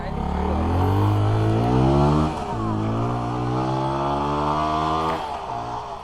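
CFMOTO 300NK motorcycle engine revving hard, a loud, close, buzzing drone that climbs in pitch, dips briefly at a gear change, then climbs again and fades slightly at the end.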